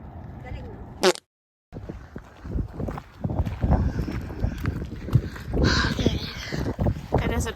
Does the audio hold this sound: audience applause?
no